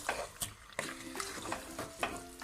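Fried potato and aubergine sabzi stirred in a pan, with a spoon scraping and clinking against the metal in uneven strokes over a soft sizzle, close and moderately loud.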